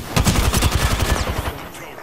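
Rapid gunfire in the video game Remnant 2, a loud, dense burst of shots in fast succession that dies away after about a second and a half, with speech mixed in.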